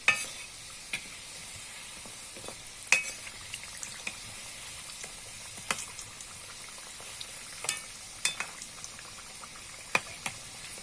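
Singaras deep-frying in hot oil over a low flame, a steady soft sizzle and bubbling with scattered sharp pops and spatters throughout, close by and alone with no voices.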